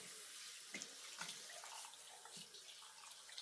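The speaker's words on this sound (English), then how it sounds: "Let me rinse my hands." Running tap water splashes softly into a sink as hands are rinsed, a quiet, continuous flow with small bursts where the stream breaks over the hands, heard alone without speech.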